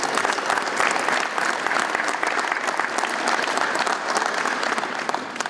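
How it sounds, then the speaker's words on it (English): A conference audience at a Canada-U.S. relations business and energy event gives loud, dense applause that continues steadily throughout without letup. "Big round of applause."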